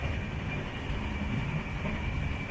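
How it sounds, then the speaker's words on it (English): A train rolls into a station in India, a continuous loud rumble of wheels and carriages with a faint high metallic whine running through it. "People get in and out without waiting for the train to stop."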